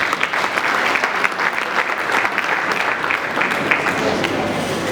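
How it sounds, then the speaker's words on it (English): A conference hall audience gives a keynote-session round of applause, dense, steady clapping filling the room at full strength from start to finish with no break. "Please, he deserves another round of applause."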